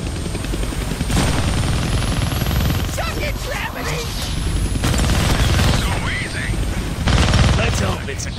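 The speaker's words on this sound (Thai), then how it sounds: "เราก็ต้องโดดขึ้นไปบนเฮลิคอปเตอร์นั้น" A helicopter in the Deadpool video game drones steadily and loudly throughout, mixed with bursts of rapid gunfire and mechanical clatter from the game.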